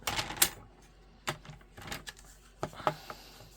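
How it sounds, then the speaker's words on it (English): Paper being cut in a trimmer for a card project, heard as a series of sharp clicks and slicing snaps in uneven bursts, close and clear with no talking. "So all I have to do is stick that in my trimmer and cut."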